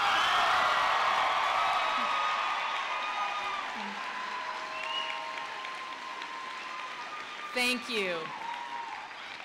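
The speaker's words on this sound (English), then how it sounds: "please stand if you are an awesome student at Cottonwood High School in the graduating class of 2021 and deserve a round of applause" Applause for the Class of 2021 graduates at a Cottonwood High School graduation ceremony, starting loud and broad, then slowly fading as a voice speaks over it near the end.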